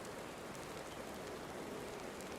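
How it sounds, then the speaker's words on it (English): Steady rain falls in Final Fantasy XIV, a constant broadband hiss of drops on surfaces that stays even and unbroken throughout, with no talking over it. "Are we really having this like out in the rain?"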